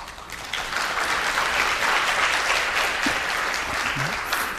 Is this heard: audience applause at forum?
yes